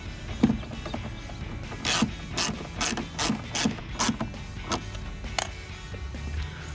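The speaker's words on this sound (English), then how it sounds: "And use your ratchet" A hand ratchet tightening a nut that holds a molded mud flap on a 2015-2020 Ford F-150 fender, giving a series of sharp, close mechanical clicks in short uneven strokes with no talking.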